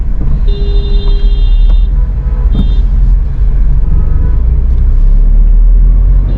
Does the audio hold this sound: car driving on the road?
yes